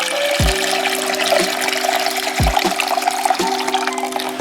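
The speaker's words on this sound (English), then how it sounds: "I have my soda ash, 125 milliliters, and my 2 liters of warm water. I'm gonna mix that up." Soda ash being stirred into two liters of warm water in a bucket for tie-dye, a steady close sloshing and trickling of liquid with a few hollow knocks against the container.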